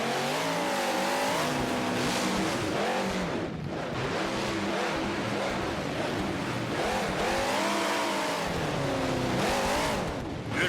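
Monster trucks racing head to head at an AMT Monster Truck Series event in Louisville, engines revving hard and rising and falling in pitch through acceleration, loud and close, with brief tire squeal and a short dip before the roar builds again.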